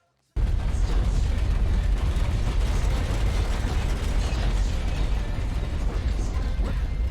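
A plant explosion from the TV series Mr. Robot: after a brief silence, a sustained, loud deep rumble with a broad mechanical roar sets in abruptly and stays heavy throughout.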